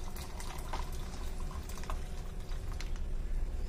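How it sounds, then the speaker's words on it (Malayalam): Water is poured into freshly blended cucumber juice, giving a soft, continuous splashing and gurgling. The sound is quiet and close, with no voices. "ഇനി നമുക്ക് ഇതിലേക്ക് ആവശ്യത്തിന് വെള്ളം കൂടെ ചേർക്കാം."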